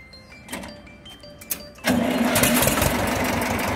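An Escort 335 two-cylinder tractor engine cranks and catches, then settles into a loud, steady, throbbing idle close by after a few quieter clicks and knocks.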